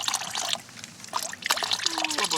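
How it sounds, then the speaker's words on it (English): Water pours and trickles into a cooking pot in short, uneven splashy bursts close by, with a few gaps between pours. "Are you sure you're supposed to put water in there?"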